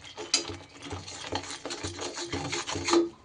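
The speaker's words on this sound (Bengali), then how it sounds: "কন্টিনিউ এইভাবে নাড়িয়ে মশলার কাঁচা গন্ধ যাওয়া অবধি কিন্তু কষিয়ে নিতে হবে" A spice paste of chili powder, turmeric and salt with nuts and poppy seeds is stirred and fried in a pan, giving a steady scraping and rhythmic rubbing of the spoon against the pan, close and moderately loud.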